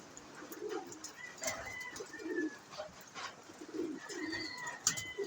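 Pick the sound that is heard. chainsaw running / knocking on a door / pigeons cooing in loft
pigeons cooing in loft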